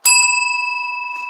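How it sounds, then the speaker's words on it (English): A bright bicycle-style bell sound effect plays during a livestream, one sharp ding that rings on and slowly fades, loud and alone. "I'm being generous today with bell sounds."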